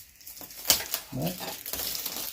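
Plastic wrap on Oculus Quest 2 packaging crinkles and tears in short bursts, close and fairly quiet, with a sharp rip partway through.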